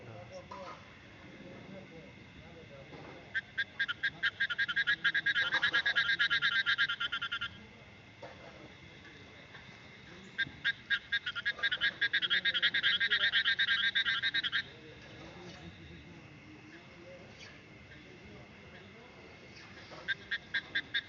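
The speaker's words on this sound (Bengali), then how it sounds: "আজকে বৃষ্টি হওয়ার জন্য এই ব্যাঙ্কগুলা সমবেত হয়েছে।" A chorus of frogs gathered after rain croaks in loud, rapid rattling bursts that swell for several seconds, then fall back to quieter gaps, repeating through the stretch.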